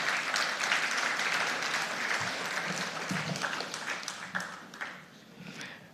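Audience applause at a book launch marking an organisation's 35th anniversary, sustained clapping from a sizable crowd filling the room for several seconds and tapering slightly toward the end.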